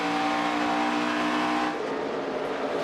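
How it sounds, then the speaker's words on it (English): A NASCAR Xfinity Series race car roars at full volume as its driver works the throttle around Homestead-Miami Speedway, engine note dipping and rising again without break across a short stretch with no talking. "You hear Trevor working that throttle"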